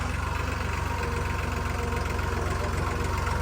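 A tractor engine with a newly fitted battery idles steadily and loudly nearby, a continuous low throbbing chug with an even rapid pulse and no breaks.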